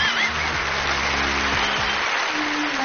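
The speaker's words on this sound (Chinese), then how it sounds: "我们再次把掌声送给这可爱的父女二人" Audience applause on a Chinese television music show for a father and daughter: a steady wash of crowd clapping mixed with musical tones underneath, fairly loud and continuous throughout.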